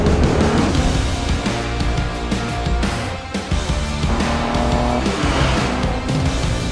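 A 400 horsepower 2016 INFINITI Q50S drives hard, its engine roaring loud and close with tire squeal and skidding, layered under a dense, constant bed of sound.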